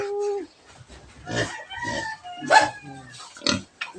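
Several pigs close by let out sharp squeals mixed with lower grunts in uneven bursts, with no voices between them.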